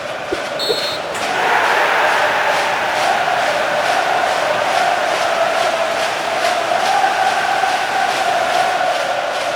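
A crowd-noise sound effect starts after a short beep and swells into a steady, dense roar of a large stadium crowd that holds at an even level to the end.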